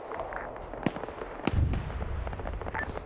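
Airstrike explosions in a military video game: two sharp blasts a little over half a second apart, followed by a low rumbling roll of further impacts, moderately loud and without talking.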